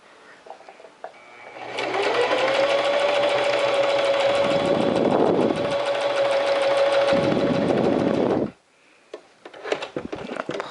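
A domestic sewing machine stitching right along the edge of a bias-bound fabric seam. A close, steady motor whir with a rapid needle patter runs for about seven seconds, briefly changes pitch partway, then stops and leaves light handling clicks.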